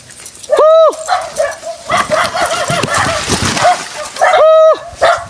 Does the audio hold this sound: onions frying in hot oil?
no